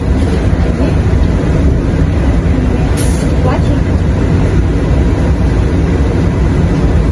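Loud, steady rumble of a moving passenger train from Lviv, constant low-frequency rolling noise with a faint voice briefly audible underneath.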